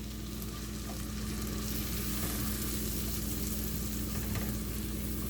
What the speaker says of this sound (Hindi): उसको थोड़ा सा हम भून लेंगे